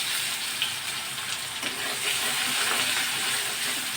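Onions going into hot oil left in a pan after frying fish, producing a steady, loud, close hissing sizzle throughout.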